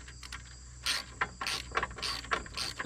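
A ratchet wrench tightens a shouldered bolt on a Roadmaster Stowmaster 5000 towbar, giving several quick bursts of close metallic clicking in a steady back-and-forth rhythm.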